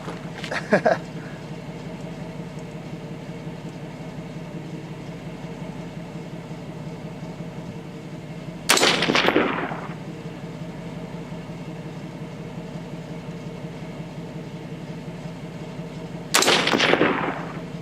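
Three sharp, loud rifle shots firing cast .223 bullets at targets ring out roughly eight seconds apart, each with a short echoing tail, over a steady low outdoor rumble.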